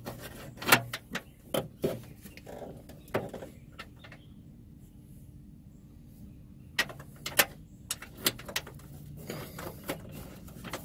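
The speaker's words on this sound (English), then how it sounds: "These bolts have been snug down with a wrench." Sharp metallic clicks and ratcheting taps from a wrench tightening bolts on a Jeep Cherokee XJ snorkel come in scattered bursts at close range, with quiet pauses between.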